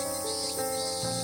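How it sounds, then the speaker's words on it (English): Male cicadas call together in a dense, continuous chorus, a steady buzzing drone that fills the air without pause. "The chorus of male cicadas fills the air, a performance to attract females."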